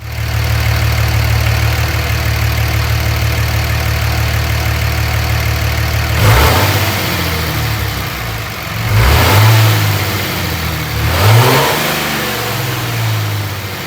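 A third-generation Cummins diesel engine with the stock turbo silencer ring settles into a steady, loud idle close by, then is blipped three times, each rev rising briefly before dropping back to idle.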